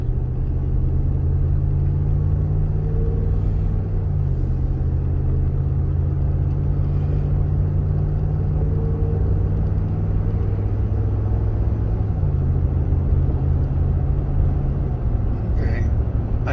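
A pickup truck carrying a bike on board drives at speed, its engine a steady loud drone with gear shifts stepping the pitch down, tire and road rumble continuous throughout, with no speech.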